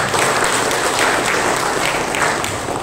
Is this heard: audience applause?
yes